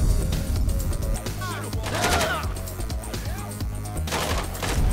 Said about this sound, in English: Don't be shooting at my guys.